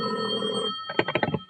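An old-fashioned telephone bell rings in a 1950 radio drama, one steady ring followed by a second broken, rattling burst of rings, loud and close with no talk over it.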